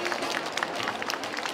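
Audience applause at a cat grooming contest results announcement, a brief dense wash of clapping at moderate, somewhat distant level.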